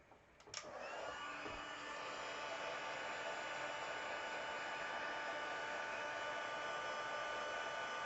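A hair dryer blows continuously on a stamped whale image on paper, a steady loud whooshing hum after a brief click as it switches on.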